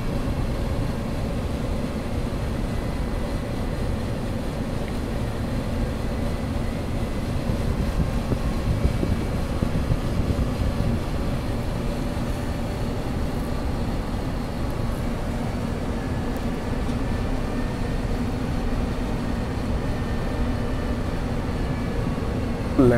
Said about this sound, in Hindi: गो अराउंड मिला हुआ एक बार, यहाँ पे फ्लाइट अपना पूरा घूम रहा है